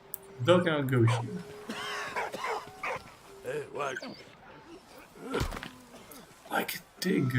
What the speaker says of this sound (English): Dog cannot go here.